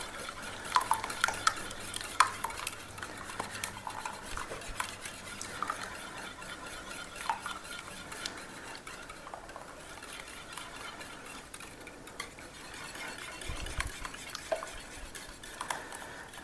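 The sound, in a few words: stirring egg mixture into bread dough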